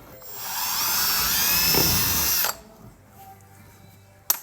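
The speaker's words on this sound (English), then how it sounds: "So I'm gonna drill one right there." A power drill boring a hole in a Duramax truck body to mount a rock light, a loud steady whine for about two seconds that stops abruptly, followed by a brief click.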